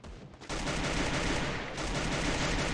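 A sustained exchange of gunfire in Free Fire forms a dense, continuous rattle of rapid shots after a brief quieter start, steady and moderately loud with no talk.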